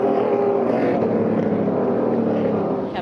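Race car engine droning steadily through a spin off turn 4 at Knoxville Raceway during a Superstar Racing Experience heat, a loud continuous roar with no clear revving peaks.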